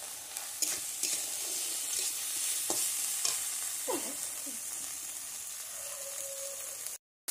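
Spices frying in a pan while being stirred, for a home-style taro leaf dish with small shrimp, giving a steady close sizzle broken by several scraping spoon strokes, ending abruptly in silence.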